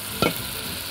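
Garlic and ghee for a tasbeeka hit a hot pan with a short, sharp sizzle burst that quickly settles into a faint steady frying hiss.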